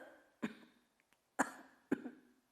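A person deliberately imitates a weak, faint cough: three soft, short coughs spaced about a second apart in a quiet room, with slight breathy tails and nothing else audible.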